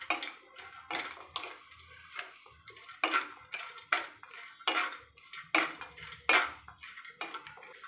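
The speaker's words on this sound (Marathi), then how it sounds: "याच्यामध्ये 150 ग्रॅम मी खारीक भाजून घेणार आहे।" Chopped dried dates roasting in ghee in a pan, heard as a regular series of metallic scrapes and clinks from a spatula, about one every half second, close and fairly faint.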